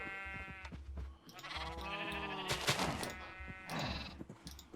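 Sheep bleat in the Minecraft video game, with drawn-out wavering cries over low background noise and a couple of sharp bursts, moderately faint.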